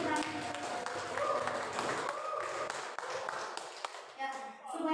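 Seminar audience clapping for the previous presenter, a dense burst of hand claps that fades toward the end, mixed with voices and some tonal sound.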